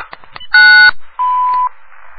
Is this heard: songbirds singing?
no